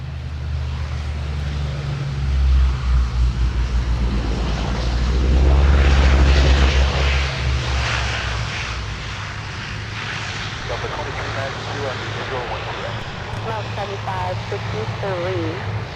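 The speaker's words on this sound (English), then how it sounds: "we got the feeder coming up here, the ATR 42 from Mountain Air Cargo out of Duluth" ATR 42 cargo turboprop from Mountain Air Cargo approaching the airport, a steady propeller drone that swells to a loud peak midway, then eases off, while radio chatter and voices run over it.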